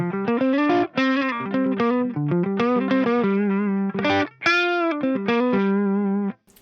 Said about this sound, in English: If I play on the neck pickup softly.